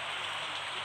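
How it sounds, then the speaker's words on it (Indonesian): Looping rain ambience from the farming video game Stardew Valley, a soft continuous hiss of falling rain, steady and even, with no voices over it. "Oh hujan hari ini."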